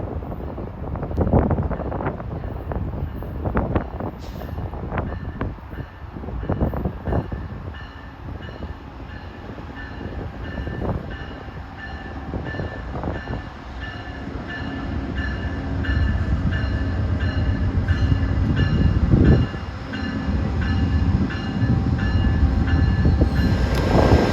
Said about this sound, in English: Approaching at 3:57 is Via Rail Train 26, en route from Ottawa to Quebec City, powered by a P-42 Genesis